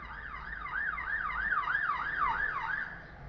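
A wailing police siren in the video game JoJo's Bizarre Adventure Part 5 Vento Aureo sweeps up and down in a steady, rapid rhythm, moderately faint and slightly distant, with no talking.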